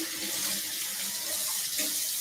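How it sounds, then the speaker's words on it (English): Kitchen tap running as produce is rinsed beneath it, a steady hissing splash of water with faint shifts as the item moves under the stream; brief and alone, no voices. "Let me rinse that off."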